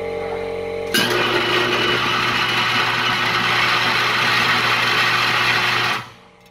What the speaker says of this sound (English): Copper needs to be very hot before it melts, so let's see how it holds up in the microwave.